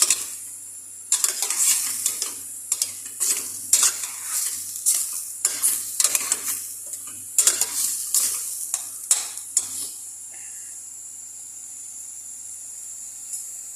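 Soy sauce splashes into a hot pan of simi pakbet vegetables and gets stirred briskly, a steady sizzle under repeated metal scraping and clanking of the utensil against the pan, then the stirring stops and only a soft sizzle remains.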